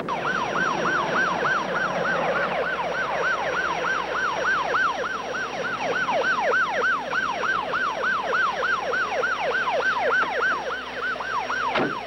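An ambulance siren wails in a fast, regular up-and-down yelp for about twelve seconds, loud and close, with no talk over it.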